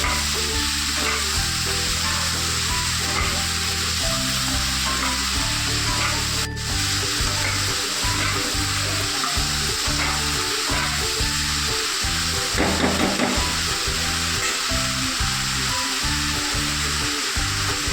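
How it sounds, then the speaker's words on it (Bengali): Mushrooms frying in a pan, a continuous close sizzle broken by rhythmic scraping and stirring strokes of a spatula, steady and fairly loud with no voices. "মাশরুমগুলো দিয়ে ভালো করে নেড়ে নেব।"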